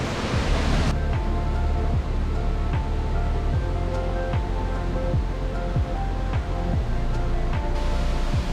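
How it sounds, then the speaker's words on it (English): A waterfall in Northland, New Zealand roars as a steady, loud broadband rush, heard up close from behind the falling water, with a few faint rhythmic thumps under it. "We're gonna try and go behind the waterfall."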